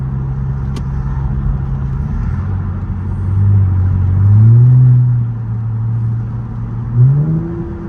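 A car accelerating on the road, engine note climbing and dropping as it shifts through gears, a loud, close rumbling whir with rising revs, no talking.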